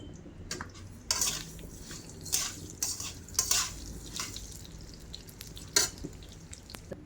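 Spice masala roasts in a little oil in a pan, with a soft sizzle under repeated metallic scrapes and clinks of a utensil stirring, close and moderately loud.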